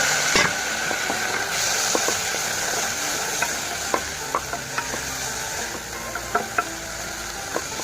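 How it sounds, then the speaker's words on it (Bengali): Vegetables lightly frying in a little oil, giving a steady close sizzle with repeated sharp scrapes and taps of a spoon stirring the pan, no talking. "অল্প কিছু তেল দিয়ে আমি সেটা হালকা বাদা করে নিচ্ছি।"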